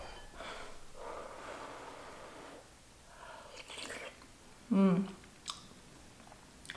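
Close, moist chewing and biting sounds come from someone eating oil-free baby bok choy with rice at a mukbang, with soft breaths and a sharp squishy bite standing out partway through.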